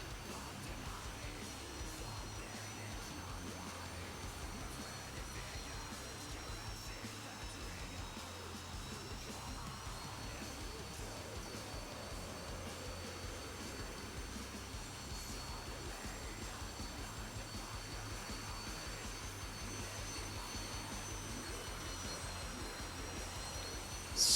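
SAAB AJS 37 Viggen jet engine in the DCS flight simulator game during a short takeoff and landing approach, a steady droning whine and rumble held at constant level for the whole stretch, with no talk.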